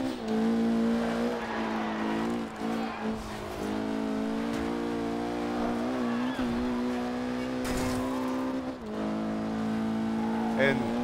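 A VW Beetle GRC rally car in the racing game Forza Horizon 2 drones steadily at high revs. Its engine note holds and shifts through gear changes for eleven seconds, with brief dips and tire noise.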